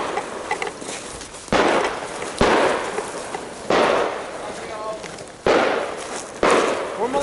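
Airsoft guns fire in an outdoor game, sharp bursts and pops at irregular intervals of about a second, each followed by a short decaying tail, fairly loud and close with nobody talking between them.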